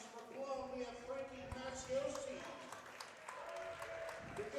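Home fans cheering and applauding as a wrestler is announced at a youth wrestling match, a steady crowd roar running throughout while a commentator talks over it.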